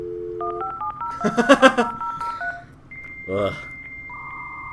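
Dial-up internet modem connecting, a rapid run of dialing tones followed by a burst of handshake noise and a steady high whistle with shifting pitches, with brief talk over the tones.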